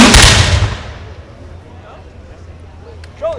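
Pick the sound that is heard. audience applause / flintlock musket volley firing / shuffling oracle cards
flintlock musket volley firing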